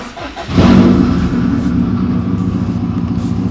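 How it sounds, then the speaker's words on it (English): A turbocharged car engine fitted with an AEM air-fuel ratio gauge cranks and catches, then settles into a steady, fairly loud idle rumble close by. "If I go to start the car"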